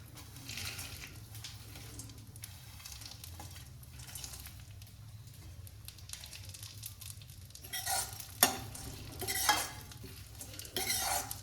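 Dry fruits frying in ghee in a pan for gondh laddoo, with a steady low sizzle and a spoon stirring and scraping now and then, the clinks growing louder toward the end.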